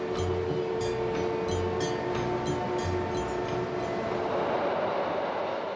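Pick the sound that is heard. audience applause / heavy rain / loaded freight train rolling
loaded freight train rolling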